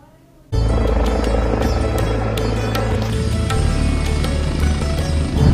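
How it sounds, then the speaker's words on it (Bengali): A helicopter's engine suddenly roars up loud and close, then holds a steady, heavy droning rumble with rhythmic throbbing. "শুরু হয়েছে হেলিকপ্টার মহড়া"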